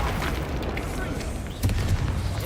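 A Bombarda spell in the Hogwarts Legacy video game sets off a deep booming blast partway through, with rumbling low impacts mixed into busy game sound and a voice talking.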